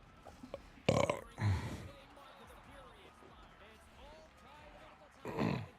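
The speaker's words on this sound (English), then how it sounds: "I do burp a lot on the stream." A streamer lets out a loud, deep belch, followed by a second rumbling burp and another later on, each standing alone against quiet background game sound.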